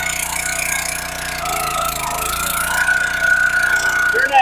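Gas engine on a log splitter running just after a pull start, a loud close rough chugging idle with steady knocking pulses, no talking over it.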